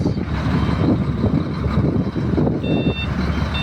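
A truck backs up in traffic, its reversing alarm beeping steadily over a loud idling diesel engine rumble, with no voices.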